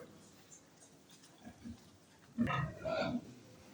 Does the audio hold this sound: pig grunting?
yes